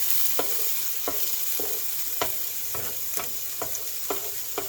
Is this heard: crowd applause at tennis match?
no